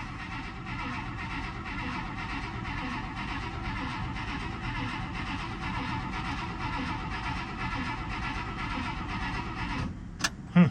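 The engine of a 1958 Buick Special with a weak battery, first start attempt after two years, cranks steadily and rhythmically for about ten seconds without catching, then stops with a couple of clicks.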